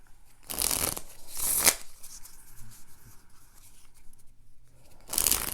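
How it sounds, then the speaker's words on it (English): Playing cards for the Pairs game are shuffled in three quick riffling bursts, two close together early and one at the end, with a quiet pause between and no talking. "We'll give the cards a shuffle."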